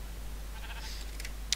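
Sheep bleating in a video game, a couple of short, thin bleats in the middle of the moment, followed by a brief sharp click near the end, all over a steady low background hum.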